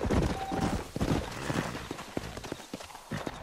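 Horse hooves clip-clop in Red Dead Redemption, a steady rhythm of close, loud footfalls heard alone.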